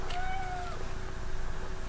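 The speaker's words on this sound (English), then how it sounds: "you hear a cat crying in the background." A cat meows plaintively in the background, one drawn-out cry rising and falling over a steady low hum.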